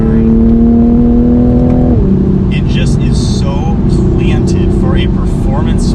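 A Toyota A90 Supra sports car engine drones at high revs while cornering fast, then the pitch drops as it eases off, followed by a sustained hum with intermittent tire or wind noise and chirping sounds over it.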